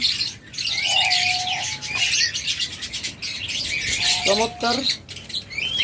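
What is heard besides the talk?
diamond doves calling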